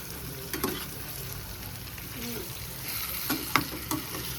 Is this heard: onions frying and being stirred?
yes